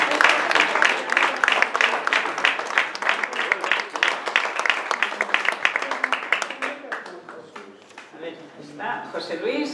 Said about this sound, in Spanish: ustedes, querido público, con su aplauso singular